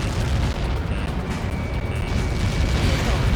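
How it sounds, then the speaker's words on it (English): A large explosion in the flight combat game Ace Combat 7: a sustained, heavy rumbling blast with dense low booming and crackling debris, loud and continuous without speech. "How many got caught in that explosion?"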